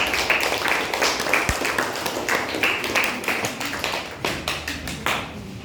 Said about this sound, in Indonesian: Oke, berikan tepuk tangan untuk kelompok 2.